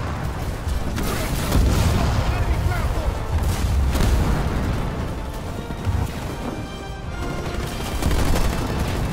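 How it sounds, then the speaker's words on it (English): Booming missile launches and blasts from Halo Wars 2 roll continuously in rough bursts, loud and dense, with voices and battle noise mixed underneath. "launch Archer missiles now"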